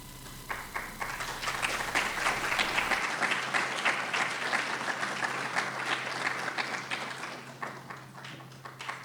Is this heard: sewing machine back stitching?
no